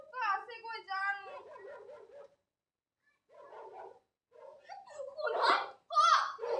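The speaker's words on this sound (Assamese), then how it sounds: "শুনহত কুকুৰটোৱে ভুকিছে নহয়নে শুনাচোন" Dog barking and whimpering in a children's stage play at a drama competition comes in short yelping bursts, pauses, then returns with louder voices mixed in.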